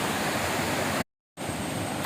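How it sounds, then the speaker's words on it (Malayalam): Water plunges over the edge of Amarad waterfall in Kozhikode as a steady, full rushing roar, close by, broken by a brief gap of silence midway. "ഈ ഒരു പോയിന്റിൽ നിന്നാണ് താഴേക്ക് വെള്ളം പോകുന്നത്"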